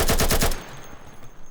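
Rifle spray fire in the video game Insurgency: a rapid burst of about five loud, evenly spaced shots lasting half a second, then a faint lingering tail and quiet room tone.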